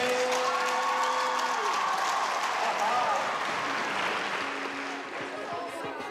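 Audience applauding for Erica Perry, a sustained wash of clapping that holds steady and then eases slightly toward the end, with cheering and voices mixed in.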